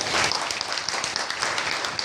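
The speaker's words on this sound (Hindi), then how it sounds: "बजाओ ताली ऋषि दयानंद जी के।" Audience applause at an Arya Samaj annual festival gathering, a steady broadband clatter of many hands clapping that holds evenly throughout without talk.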